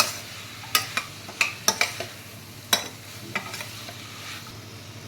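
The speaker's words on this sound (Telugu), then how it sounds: "పెట్టుకున్న ఉర్లగడ్డలు, క్యారెట్ వేసుకొని కొద్దిగా లైట్గా వేపుకుందామండి." Potatoes and carrots fry lightly in a pan under a soft, low sizzle, punctuated by a series of sharp scrapes and taps as a spoon stirs them.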